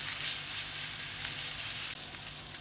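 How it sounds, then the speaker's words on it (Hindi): Grated ginger and garlic fry in a pan for tawa beef keema, giving a steady, close sizzle that runs the whole time with no talking. "और इसको हम हल्का सा फ्राई करेंगे ताकि इसकी खुशबू आना स्टार्ट हो जाए।"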